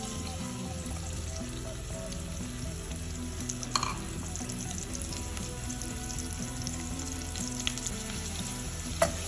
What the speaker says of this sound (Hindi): जैसे ही हमारा देसी घी गर्म होना स्टार्ट होगा, हम इसमें ऐड कर देंगे कटे हुए बारीक प्याज।